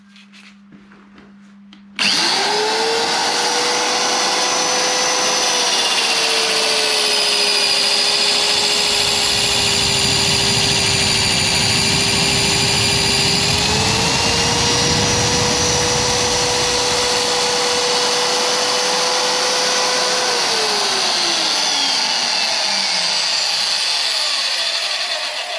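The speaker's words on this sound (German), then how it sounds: "Magnetfräsmaschine. Klein, handlich. Mit Schmierung, Kühlung. Laut ist." A small magnetic-base milling machine with lubrication and cooling starts up and runs loudly, a steady high-pitched motor whine with a shifting tone and a rougher cutting roar in the middle, close and alone.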